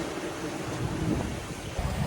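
Strong wind of upper-20s knots roars across the microphone while a small sailboat named Pickle makes 7 knots through waves under a gale warning at sea. The rushing noise is loud, dense and continuous, with low buffeting.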